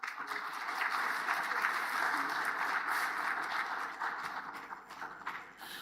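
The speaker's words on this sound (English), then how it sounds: "let's give him a round of applause" An audience at an agriculture science week and general assembly claps in sustained applause, a moderate, even patter of many hands that tapers off slightly toward the end.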